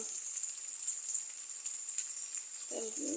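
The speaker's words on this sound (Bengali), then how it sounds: "পেঁয়াজটা ভাজা ভাজা হোক, পেঁয়াজ রসুনটা" Onion and garlic fry in a pan for leafy greens, giving a steady, quiet sizzle throughout, with a brief clatter near the end.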